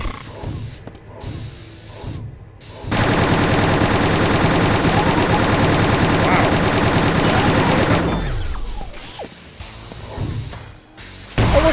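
Enemy Gunner machine-gun fire in the PlayStation version of Quake 2, a loud sustained rapid burst lasting about five seconds that winds down with a descending whir, framed by quieter game sounds and scattered thumps before and after.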